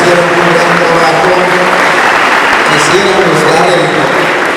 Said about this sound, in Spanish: fuertes aplausos para todos ustedes que de verdad hicieron un gran trabajo